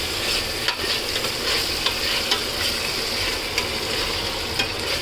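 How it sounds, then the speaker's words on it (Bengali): Bhuna khichuri with mixed lentils, vegetables and bottle gourd is stirred in a pan, giving a continuous sizzle broken by regular scraping strokes of the spoon, close and fairly loud, with no talking. "ভুনা খিচুড়ি রান্না করছি।"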